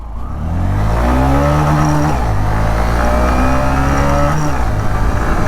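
A Honda SP 125 motorcycle, 2025 TFT model, accelerates hard through the gears from standstill in a 0 to 60 run. The engine note climbs steadily and drops at each shift, loud and close, with no talk.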